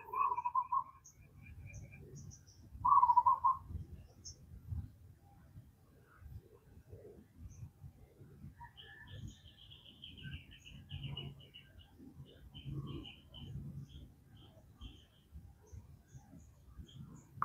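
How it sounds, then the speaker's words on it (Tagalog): Scattered bird chirps and brief calls sound outdoors, some close and some distant, over low rustling background noise. "Sarap pa mo na pakinggan yung mga sounds ng mga ibon dito sa amin"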